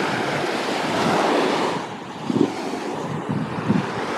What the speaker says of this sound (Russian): Это море.